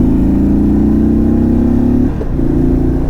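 A 2022 Indian Super Chief Limited motorcycle's engine revs loud and close, holding a steady throaty drone that dips briefly before climbing again.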